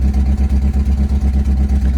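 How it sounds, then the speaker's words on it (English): A Honda Accord engine with an exhaust leak idles with a loud, rhythmic low chugging and puffing pulse, steady and close, with no voices. "It's got an exhaust leak, as you can clearly hear."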